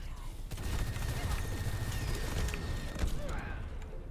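Airstrike in Overwatch 2 with a dense rumbling barrage of explosions and crackling impacts across the whole stretch, sharper blasts near the start and end, loud and close amid battle noise.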